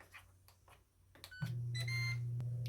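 An Instant Pot set to air crisp preheat gives a few soft button clicks and a short beep, then a steady electric hum as the unit starts up nearby.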